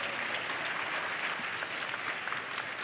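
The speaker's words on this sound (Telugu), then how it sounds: "చప్పట్లు కొడుతూ స్తోత్రాలు చెప్దా" A church congregation applauding in praise during a sermon, a dense, even wash of many hands clapping at once, sustained and fairly loud throughout with no voices standing out.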